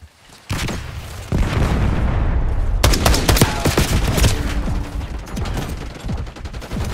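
A flashbang grenade and gunfire in Black Ops 6 multiplayer on the Babylon map, with a heavy boom followed by dense, continuous rapid shooting and explosions, loud and close.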